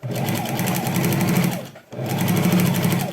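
A sewing machine runs a zigzag stitch on fraying fabric in two close bursts of rapid, even mechanical chatter, split by a brief pause.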